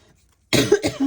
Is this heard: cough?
yes